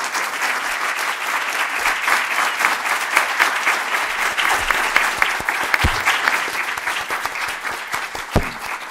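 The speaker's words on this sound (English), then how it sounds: "I would like to have a round of applause for the sitting panelists" An audience at a Harvard legal symposium applauds the panelists who have just spoken. Dense, even clapping keeps a steady level throughout, close and fairly loud, with a few sharper claps near the end and no talking.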